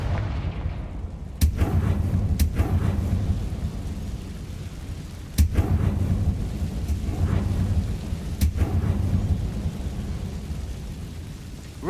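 Explosive spell impacts in the Hogwarts Legacy video game, several sharp booming blasts spaced a few seconds apart over a low rumbling background, with no talking.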